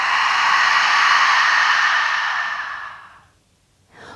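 A single long exhale through the mouth during yoga breathing, a soft breathy rush that holds steady for about three seconds, fades away, and ends in a brief intake, heard alone and close up.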